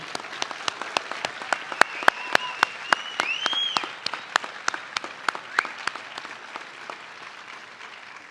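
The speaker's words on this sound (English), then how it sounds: "let's give the cadets a round of applause too" Applause for police academy cadets at their graduation ceremony: a thin, moderately distant patter of clapping with sharp, distinct individual claps standing out, fading gradually toward the end.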